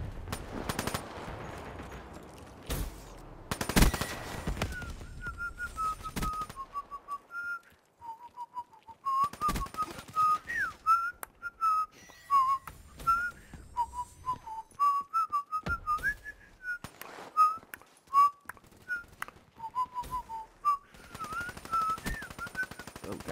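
Black Ops 3 multiplayer on the Stronghold map with a Hellstorm missile killstreak incoming: bursts of gunfire and impacts give way to a long wavering whistle tone that rises and falls above scattered sharp shots.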